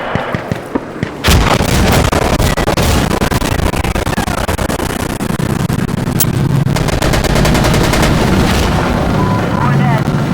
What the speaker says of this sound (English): We're opening with rockets.